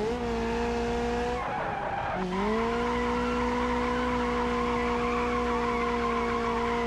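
Car tires squeal continuously while drifting in the BeamNG driving game, a loud sustained screech that dips briefly and then resumes at a slightly higher pitch, without any talk.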